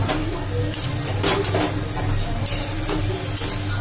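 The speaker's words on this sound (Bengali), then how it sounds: "মশলাটা যাতে কড়াইতে লেগে না যায় সেই জন্য দিয়ে ভালো করে নাড়তে থাকবো" A spoon scrapes and clinks against a kadai while spiced curry with a little water is stirred. The metal scraping and clinks sit close over a low hum with a faint sizzle, and no voices are heard.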